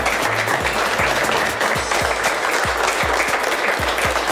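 Neighbours applaud the reopening of a local workshop: steady, dense clapping from a crowd, loud and continuous throughout, with regular low thumps running underneath.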